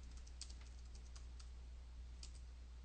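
Typing on a computer keyboard, faint scattered key clicks in quick irregular taps over a steady low hum, no speech.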